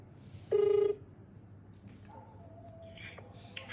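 An outgoing mobile phone call sounds one short, clear ringing tone near the start, followed by quiet room noise and a few faint background chirps.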